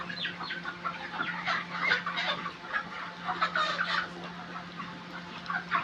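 Chickens cluck and call in irregular bursts inside a poultry farm shed, a low steady hum running underneath.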